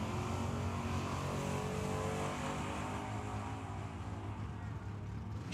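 Drag race launch at Tucson Dragway, a Nova against a Chevelle, with loud, steady engine roar from both cars continuing for several seconds.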